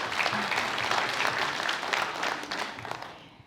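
Guests at a business mixer clap for a donor's charity work, a lively burst of applause that gradually thins and fades away over a few seconds.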